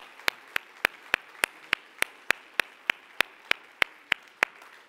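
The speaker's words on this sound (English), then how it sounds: "Let's give the Lord a great big hand clap of praise." A church congregation claps hands in praise at a Sunday service: a steady, evenly spaced beat of sharp, loud claps, about three per second, with no talking between them.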